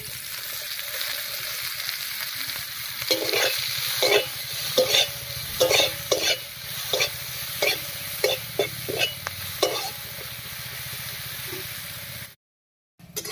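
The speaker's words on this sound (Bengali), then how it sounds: "ফোড়নের উপরে পেঁয়াজটা দিয়ে বেশ লাল লাল করে ভেজে নিয়েছি" Chopped onion fries in oil over a whole-cumin tempering with a constant sizzle, broken by a rhythmic run of spatula stirs and scrapes against the pan. The sound cuts out briefly near the end, and no one speaks.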